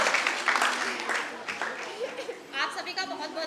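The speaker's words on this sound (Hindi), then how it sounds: "एक बार जोरदार तालियां नाटक की निर्देशिका और इन प्यारे प्यारे बच्चों के लिए" An audience claps for children who performed in a stage play, scattered applause mixed with chatter and light laughter, swelling briefly and then thinning out.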